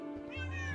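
Cats meow in a video game, a short bright mewing cry rising over a steady low game hum, close and clear.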